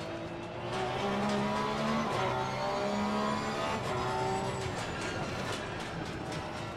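A Porsche race car with a rear engine in the racing game Assetto Corsa Competizione: a steady engine drone with rising and falling pitch through gear changes, with an even, continuous level and no talk.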